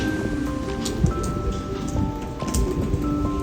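Heavy rain falls steadily at a mountain campground with camper vans and cabins at night, a dense continuous hiss and patter with no voices.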